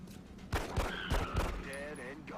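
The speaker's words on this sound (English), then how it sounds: "execute him with our pistol" Gunfire in the XCOM: Long War strategy game, several sharp cracking pistol shots in quick succession followed by a ringing electronic tone, all fairly loud with no speech over them.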